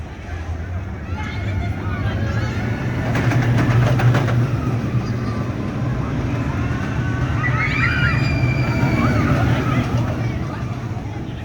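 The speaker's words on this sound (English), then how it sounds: "That's the Trailblazer. It's probably my least favorite mine train." The Trailblazer mine train roller coaster at Hersheypark rumbles past with a continuous heavy clatter of wheels on track, heard at a distance under crowd chatter and park babble that swell in the middle.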